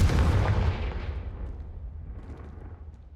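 Blasting-spell explosions from the video game Hogwarts Legacy: a heavy booming burst up front that rumbles and fades away over a few seconds, with no voices.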